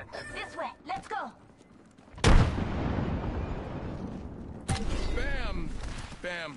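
A grenade detonates in Apex Legends: one sharp, loud blast followed by a long rumbling tail, with in-game voice callouts before and after.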